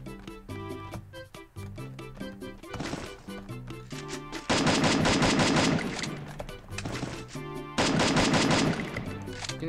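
MP40 submachine gun fire in the mobile battle game Free Fire, with rapid loud bursts in several repeated volleys over game music and effects.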